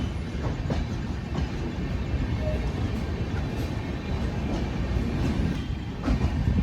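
The Thiruvananthapuram Central Express rolls along the tracks, heard from inside a sleeper-class coach as a steady, close rumble with faint rhythmic clacks throughout.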